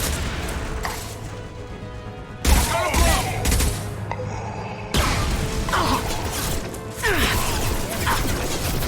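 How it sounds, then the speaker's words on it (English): In the Mass Effect 2 shooter, a loose fuel tank is shot down and crashes amid gunfire: a loud metallic smash and boom, then clattering crashes and creaks over a steady wash of combat noise. "That fuel tank's coming loose! Shoot it! Bring it down on top!"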